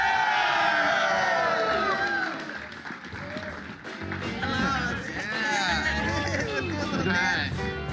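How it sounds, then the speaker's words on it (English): Audience applause and cheering for Beatrix Jar on a talk show, a loud burst that fades, then rises again with whoops, with voices chattering throughout. "So I want a rousing round of applause yet again for Beatrix Jar."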